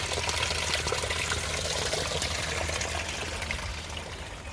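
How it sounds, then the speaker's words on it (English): Water from a strong natural spring flowing into a pond, a continuous bright rushing trickle close by, steady and unbroken, gradually easing slightly toward the end, with no voices. "The natural spring that provides the water is strong here."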